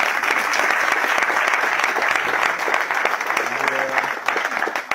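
Live stand-up comedy audience applauding and cheering, a dense, steady wash of clapping that stays loud throughout with a brief dip near the middle.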